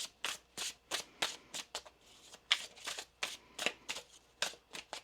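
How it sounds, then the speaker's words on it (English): Tarot cards are shuffled in quick, rhythmic riffles, a steady run of crisp flapping bursts, close and fairly quiet. "One more shuffle here."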